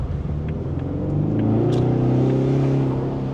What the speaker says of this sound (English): The exhaust is actually pretty loud.